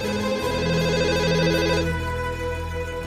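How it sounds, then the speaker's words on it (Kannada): A telephone rings steadily with a loud, continuous electronic ringtone whose repeating pattern fills the whole moment without any talking over it. "ಫೋನ್ ರಿಂಗ್ ಆಗ್ತಾ ಇದೆ, ಹೋಗಿ ನೋಡ್ರಿ ಯಾರಾದ್ರು"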